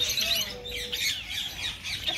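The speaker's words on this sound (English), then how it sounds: "These are Kayaba finch." Kayaba finches, small finches from Indonesia, chirp in an outdoor bird park, a bright busy chatter of overlapping high calls with a faint tonal whistle, heard continuously at moderate distance with no talking.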